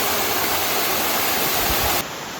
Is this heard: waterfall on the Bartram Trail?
yes